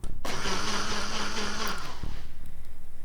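Blender whirring a smoothie in the video game The Salesman: a loud, steady motor buzz that starts abruptly and runs for about two seconds before winding down.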